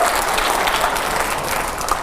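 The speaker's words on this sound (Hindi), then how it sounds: "तालियां जरा जोरदार होनी चाहिए हर सवाल के पहले" A live audience at a Hindi-language interview event applauds steadily, a dense, continuous clapping that holds at even loudness throughout without voices.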